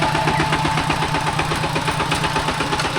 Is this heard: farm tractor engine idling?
yes